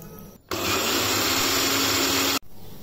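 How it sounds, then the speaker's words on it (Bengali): A kitchen blender whirs loudly and steadily for about two seconds as it blends washed tulsi (basil) leaves with water, with a sharp start and an abrupt stop amid quieter room noise. "তুলসী পাতাগুলো ভালো করে ধুয়ে ব্লেন্ডারে দিচ্ছি"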